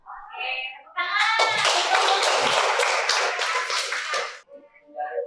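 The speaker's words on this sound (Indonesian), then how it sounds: "Oke, tepuk tangan." A classroom of students bursts into a burst of clapping that runs for a few seconds, close and fairly loud, with brief voices before and after.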